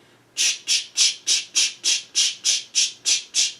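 A voice imitates a shaker with eleven crisp, hissy bursts in a steady, even rhythm, close and fairly loud, with no other sound.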